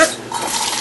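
Saved noodle cooking water pours into a cooking pot as a steady, close splashing rush that swells slightly after a brief dip and continues to the end.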